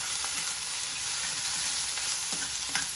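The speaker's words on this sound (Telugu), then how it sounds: "అల్లం వెల్లిగడ్డ పేస్ట్ మంచి వాసన వచ్చే వరకు ఇలా కలుపుతూ ఉండాలి." Ginger garlic paste and turmeric sizzle steadily in a hot pan for a Telangana-style ridge gourd curry. The frying crackles close by, and a spoon occasionally scrapes and taps as it stirs.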